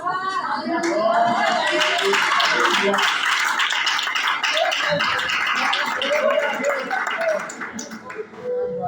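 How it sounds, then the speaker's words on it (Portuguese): A church congregation claps hands in worship during an evangelical service, loud, dense, continuous clapping close by for several seconds with voices underneath, thinning near the end. "Pode se acertar glorificando o Senhor com as palmas."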